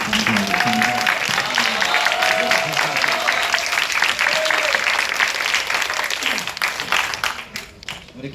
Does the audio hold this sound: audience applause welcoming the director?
yes